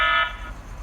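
A Hikvision wireless intrusion alarm system gives a brief electronic burglary alarm tone, blaring loudly for a fraction of a second, then cutting off, leaving a low background hum.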